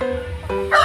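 Close, loud crow from a Rhode Island crossbreed rooster, a short burst that climbs in pitch toward the end.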